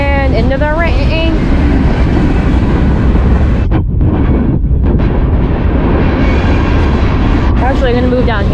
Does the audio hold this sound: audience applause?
no